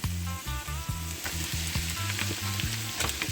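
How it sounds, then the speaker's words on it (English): Saltfish sizzles loudly as it fries in a hot pan, with a steady close crackle and rhythmic tonal scraping from stirring. "I'm adding my saltfish now"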